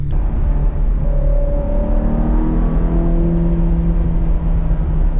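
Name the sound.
Ferrari 360 engine running during a test drive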